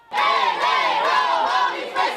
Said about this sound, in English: It's one of the cries of the crowd here at Campus Martius